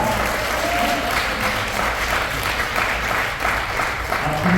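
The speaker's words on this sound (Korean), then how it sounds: "우선 유영만 교수님 사모님한테 큰 박수를 보내서 선물해드립니다." An audience applauds at a book launch celebration for a professor's hundredth book, a steady, dense clapping that fills the room and keeps up throughout without a break.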